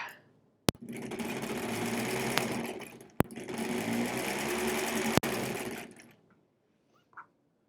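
The motor of a 1938 Kenmore model 38 sewing machine runs in two long steady bursts with a sharp click at each start and stop, close and fairly loud, then quiet.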